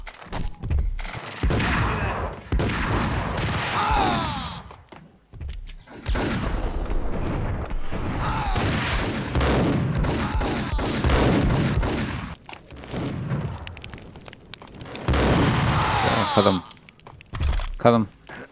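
Desert Eagle pistol gunfire in the Max Payne video game, a run of loud sharp shots and impacts spread through the action with someone talking over much of it.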